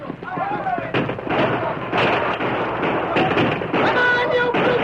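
Gunfire in a cavalry charge scene from an audio drama about outlaws and blue-coat soldiers, loud bursts of shots and booming reports layered over shouting voices and battle noise.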